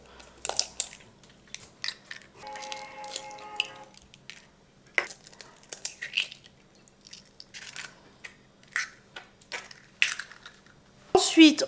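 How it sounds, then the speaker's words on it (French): Eggs are cracked into a mixing bowl in a home kitchen, giving a series of quiet, crisp cracks and taps spaced across the clip, with soft handling noises between them. "Ensuite, donc, on casse les œufs dans un saladier."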